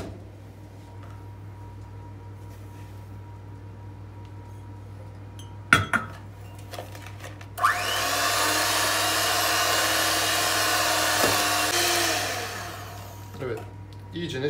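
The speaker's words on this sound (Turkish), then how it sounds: "Şimdi yumurtayla şekeri çırparak başlıyoruz" Eggs and sugar whisked for carrot cake batter, heard as a steady, close, loud whirring of a beater in a bowl that runs for about four seconds after a few knocks, then stops, with faint kitchen clatter around it.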